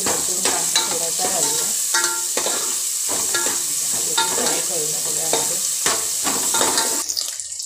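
Onion frying with garlic in a pan for a traditional Malvani dish, a loud continuous sizzle broken by repeated scraping stirs from a spoon, close up.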